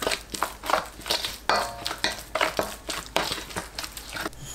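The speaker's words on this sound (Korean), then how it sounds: "생강청 2분의 1 큰술, 설탕 10g, 새우젓 한 큰술, 멸치액젓 100g, 매실청 두 큰술, 풀 넣고 섞어서 양념을 만듭니다" Kimchi seasoning of ginger syrup, sugar, salted shrimp, anchovy fish sauce, plum syrup and flour paste being stirred together in a bowl: repeated wet squelching and scraping strokes in a steady rhythm, close and fairly loud.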